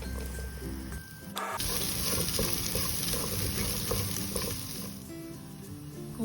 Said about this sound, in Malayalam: വെച്ച ഇഞ്ചിയും സവാളയും കൂടെ ഇട്ട് ഒന്ന് ഇളക്കി കൊടുക്കാം.